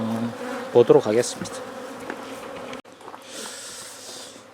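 Honeybees buzzing inside an electrically heated hive, a soft steady hum heard close up, with a person speaking briefly over it.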